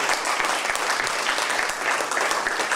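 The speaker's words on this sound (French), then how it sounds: "On peut les applaudir." Audience at a poetry reading applauding, a steady dense patter of hand claps filling the whole moment at moderate volume.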